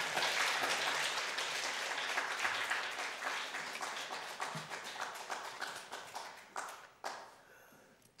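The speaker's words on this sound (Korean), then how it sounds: "우리 선교사님 나오실 때 큰 박수로 환영하겠습니다." A church congregation at a Wednesday service breaks into loud applause to welcome a missionary, a dense burst of clapping that thins into individual, rhythmic claps and fades toward the end.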